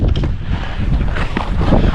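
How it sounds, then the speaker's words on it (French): Wind gusting over snow in the Yukon, Canada: steady, close buffeting rush that rises and falls slightly, with no other sounds. "Changement d'ambiance, le vent rafraîchit."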